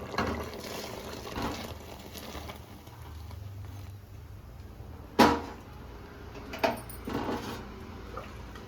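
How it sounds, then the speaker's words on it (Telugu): Cooked lentils tipped into simmering tamarind broth for pappucharu, giving a couple of soft splashing plops over a low, steady kitchen background with no talking. "ఇప్పుడైతే చింతపండు రసం మంచిగా ఉడికింది కదా, దీంట్లో మనం ఉడికించుకున్న పప్పుని వేసేసుకుందాం."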